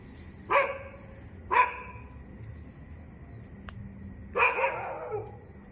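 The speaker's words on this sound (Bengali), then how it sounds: "কুকুর ডাকছে।" A dog barks at night outdoors, three sharp barks spaced a second or more apart, the last a doubled bark, moderately distant over a steady high chirping of crickets.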